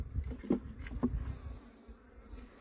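Honey bees (Apis) hum and buzz around a hive being captured and rescued outdoors, a close, steady drone with swelling pulses as individual bees pass near.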